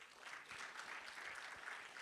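Audience applause at a digital assets summit in Africa, a steady wash of clapping from a crowd heard at a moderate distance, sustained throughout without talk.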